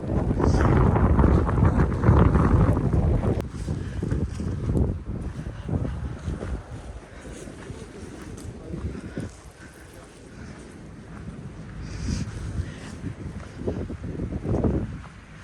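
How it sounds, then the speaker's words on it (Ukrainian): Strong wind buffets the microphone in heavy gusts, loudest at the start, then easing into a rougher, steadier rush. "Розібрався вітер."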